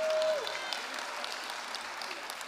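Fairly faint, even applause from an audience at a beauty pageant grand finale, clapping for the contestants, with a brief voice at the start.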